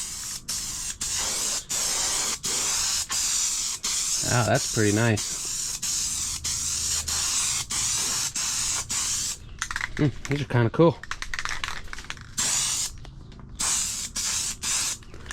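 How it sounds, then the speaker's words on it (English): Steady hissing spray from a spray paint can, a test spray before painting a car hood, runs almost continuously with brief interruptions while a person talks briefly over it. "Test spray."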